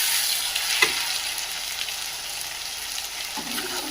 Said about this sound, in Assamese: এইখিনি ধুনীয়াকৈ তেল ওলোৱালৈকে মই ভাজি লৈ লওঁ